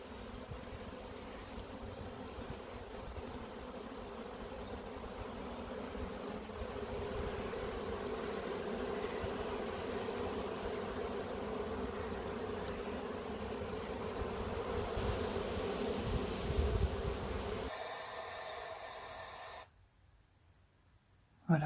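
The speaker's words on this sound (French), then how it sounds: "Ça vole de partout, il y a des abeilles à foison, partout." A dense swarm of honey bees hums steadily around an open hive as a beekeeper sets new and old frames into a small nucleus box, a continuous close buzz that cuts off abruptly into near silence.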